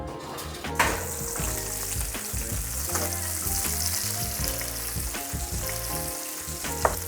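Cornish sardines sizzle steadily in a frying pan at raging heat beneath a grill, a loud continuous crackling hiss with a few light clicks of the pan throughout.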